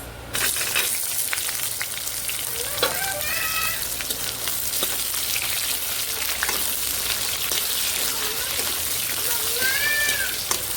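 Onions added to dry roasted spices crackle and sizzle in a hot pan for a Punjabi-style capsicum sabzi, a constant close frying hiss with faint scrapes and a few short squeaky sounds in the background.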